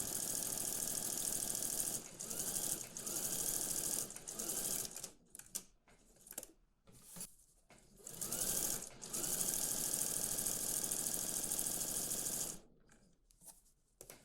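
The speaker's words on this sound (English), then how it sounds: "we're going to stitch around either side of our cuff." A sewing machine stitches around either side of a blouse cuff in long steady runs, stopping and starting several times with short pauses between bursts, loud and close with no talking.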